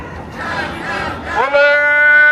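A Sikh and Kashmiri rally at the UN roars with a crowd chanting slogans, then a single loud, sustained voice rises clearly above the crowd, close and powerful.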